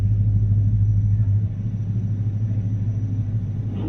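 A cammed Dodge Challenger R/T lines up against an Infiniti Q60 for a race, its engine a loud, steady, deep rumble close by with a slight drop in level partway through and no voices.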